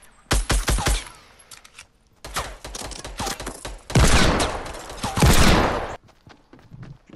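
Automatic gunfire in Fortnite, heard as loud rapid bursts of shots separated by short pauses, then long sustained volleys of fire toward the end.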